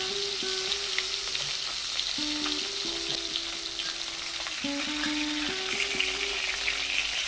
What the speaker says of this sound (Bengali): তেল গরম হয়ে গেছে, এখন দিয়ে দেব কই মাছ।